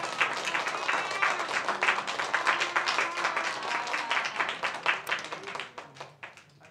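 A church congregation claps together, quick bright hand claps swelling to a strong burst and then thinning into scattered claps before fading near the end.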